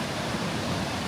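Montmorency Falls in Québec pours down in a steady, dense rushing roar with no breaks, heard close and alone.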